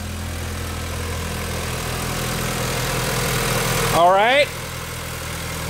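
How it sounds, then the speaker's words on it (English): A BMW sports car engine idling after a cold start gives a steady low hum throughout, with a brief whine near the end and a voice speaking briefly over it. "listen to that cold start"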